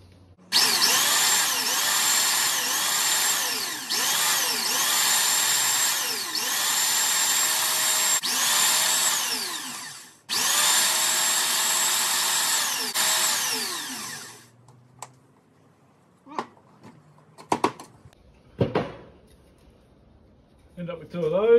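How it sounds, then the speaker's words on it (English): Power sander working small wooden pieces for a river sluice header box: loud continuous whine in long bursts with a brief stop, then it cuts out, followed by quieter handling knocks and clatter. "So I'm just going to sand them back so they fit in there nicely now."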